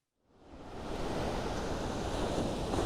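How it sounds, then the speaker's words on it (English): Ocean waves roll onto a beach in a steady, loud wash of surf that swells in after a brief quiet start and stays full, with wind rumble mixed in and no talking. "you know we're at the beach"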